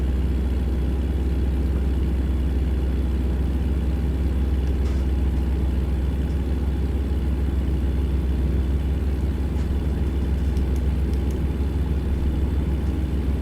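A 10-gear truck engine in American Truck Simulator drones steadily at low pitch throughout, loud and continuous, with faint clicks now and then.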